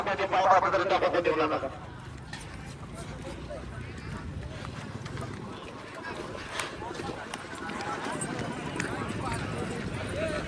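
Bullock hooves clip-clop steadily at a moderate distance with a rumbling bullock cart and outdoor noise at a bullock cart race, while voices talk near the start.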